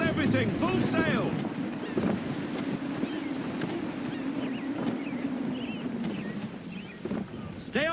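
Wooden sailing ship from Assassin's Creed III under full sail, with steady wind and sea wash rolling beneath scattered voices and creaks; no distinct unfurling snap stands out.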